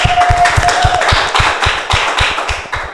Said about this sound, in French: Est-ce qu'on peut les applaudir quand même?